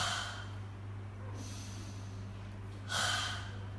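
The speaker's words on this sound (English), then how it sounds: "There are two ways to half cough. The first way is long breathe in and then short breathe out." A person demonstrating a half cough during a forced expiratory breathing exercise: a breathy exhalation, then a long quiet inhale, then a short forceful huff of breath out, close and fairly soft.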